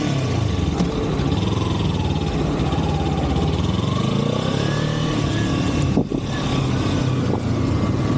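A Kawasaki Ninja 300 motorcycle rides on a busy road, its engine drone steady and close with shifting pitch as it accelerates, wind noise and passing traffic around it.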